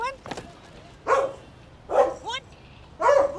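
A dog barks three times in a row, loud and close, each bark a short burst with a whiny, yelping edge, spaced about a second apart.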